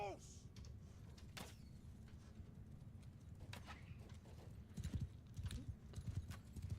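Horse hooves clip-clop in a Mount & Blade medieval battle, a steady busy patter of many footfalls with sharp clicks scattered over it, growing denser and louder toward the end.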